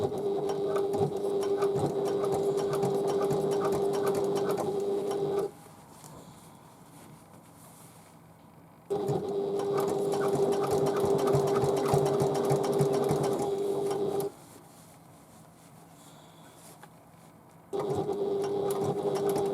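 A sewing machine stitches a bag in three long, even runs of fast mechanical whirring, each ending in a quiet pause, close and steady.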